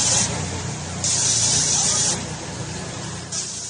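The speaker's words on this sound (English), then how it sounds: "That's the sound of workers being sprayed with a dangerous chemical disinfectant in Uttar Pradesh in India" Workers in Uttar Pradesh, India, sprayed with a chemical disinfectant: loud, close bursts of pressurized hissing spray over a low engine rumble, with people talking in the background.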